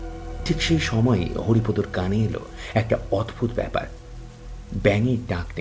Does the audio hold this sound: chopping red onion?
no